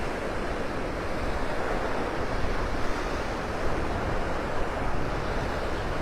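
Steady wind roars in off the Gulf of Mexico across the sand at Delnor-Wiggins beach in North Naples, Florida, a dense continuous rush with surf washing beneath it and small gusty swells, no voices.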